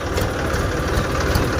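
A Fighter 744 tractor idles close by before a pulling test, its heavy diesel engine giving a loud, steady low rumble with a faint knocking pulse until it cuts off abruptly at the end.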